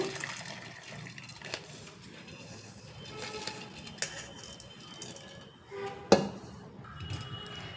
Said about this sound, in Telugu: జొన్నలు నీళ్ళల్లోంచి ఇందులోకి వడబొట్టులోకి వేసేసుకుందాం నీళ్ళన్నీ కిందకు వచ్చేస్తే